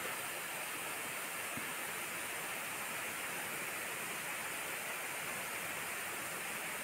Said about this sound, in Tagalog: sa tabi ng kalsadang ito ay makikita mo ang isang magandang falls